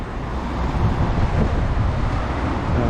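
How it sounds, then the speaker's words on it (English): Strong wind buffeting the microphone on a walk between Sliema and St Julian's, Malta, a loud continuous low roar with no pauses, heard on its own. "It's a very windy day, as you can see,"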